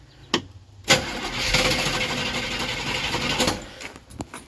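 Old motorhome engine cranking over with a couple of sharp clicks, then catching into a loud, steady, rough running drone before tapering with more clicks near the end.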